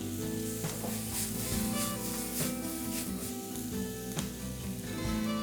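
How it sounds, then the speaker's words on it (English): Vegetables sizzle steadily in a hot pan, a continuous crackling hiss with occasional clicks and scrapes of stirring, close and fairly loud. "As I'm cooking my vegetables here"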